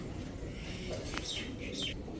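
Faint pigeon calls and soft chirps drift over a steady background hiss, fairly distant and quiet.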